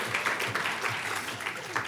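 A lecture audience claps briefly at a panel on feminist economic strategies, a short steady patter of hands at moderate distance, with no voices over it.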